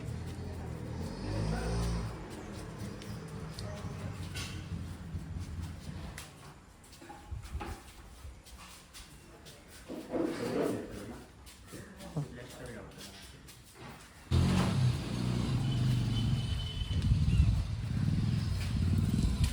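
An auto rickshaw waits to carry a household Ganpati idol home in Konkan. Its engine turns over and settles into a loud, steady low rumble in the last few seconds, with people talking throughout.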